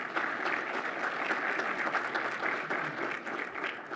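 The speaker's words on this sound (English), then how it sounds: "So please give them a round of applause." A seated audience at a Georgia logistics summit panel discussion applauds steadily, a dense even wash of clapping at moderate volume that holds for several seconds without talk.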